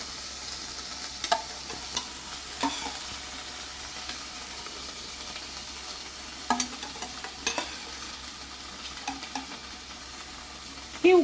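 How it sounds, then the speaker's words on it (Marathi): Boiled cowpeas tossed into a hot pan for a Mangalorean Konkani roosachi ghashshi curry give a steady, close sizzle. A spoon scrapes and stirs in several short strokes over it, and there is no speech. "उकडलेली चवळी टाकते मी."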